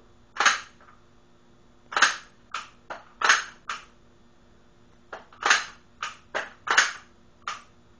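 Handgun slide being racked and handled, heard as a series of sharp, close metallic clacks in irregular clusters with quiet gaps between them.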